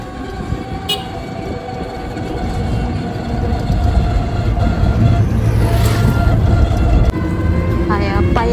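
A train pulls into a station, a loud steady rumble of rolling wagons building over several seconds, with brief horn toots and voices and crowd noise mixed in.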